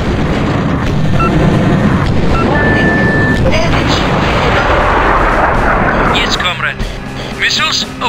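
Missiles launch in the video game Battlezone Combat Commander, Total Command mod, mission at Io's Bridge: a loud, sustained rumbling roar with booms and whooshes, overlaid by clipped radio-style voices.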